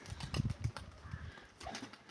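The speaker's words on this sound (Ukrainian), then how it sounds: "Голуби грають" Pigeons, among them a black-tailed bird, cooing and playing close by, with soft low burbling calls in uneven bursts and faint rustling between them.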